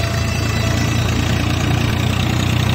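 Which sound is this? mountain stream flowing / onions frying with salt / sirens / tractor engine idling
tractor engine idling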